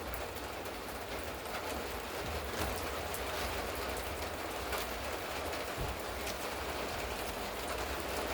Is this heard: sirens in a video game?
no